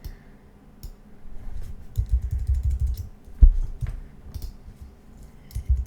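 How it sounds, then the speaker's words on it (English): Computer keyboard keys tapped while nudging a shape in vector design software, a few scattered soft clicks and one sharper press, close and quiet. "hitting A on my keyboard and just nudging it over slightly"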